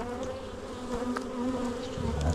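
Honey bees swarm around an open beehive during an inspection, their steady, close buzzing hum filling the air with individual insects droning past now and then.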